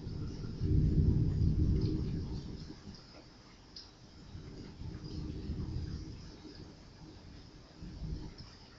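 Distant thunder rumbles low and heavy during an early morning storm in New Orleans, swelling loudest near the start and rolling on more softly in waves, with steady rain hiss beneath.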